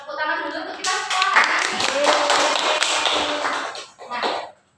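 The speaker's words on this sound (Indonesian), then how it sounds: "tepuk tangan dulu untuk kita semua" A classroom of children claps together for several seconds, a dense close burst of hand claps that fades out near the end.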